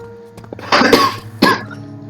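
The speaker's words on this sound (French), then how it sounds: "Excusez-moi si je tousse." A man coughs close to the microphone, two harsh throat-clearing bursts with a short pause between them.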